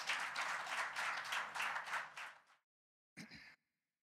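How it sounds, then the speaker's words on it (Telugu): A church congregation at an evening revival meeting claps to welcome a brother to the front, a dense burst of applause lasting a couple of seconds, then fading, followed by a brief second smattering. "Shall we all clap and invite our brother."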